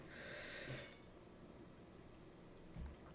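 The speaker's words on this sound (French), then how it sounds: "Vous m'entendez renifler." A faint allergy sniffle through the nose near the start, then a short second sniff near the end, against quiet room noise.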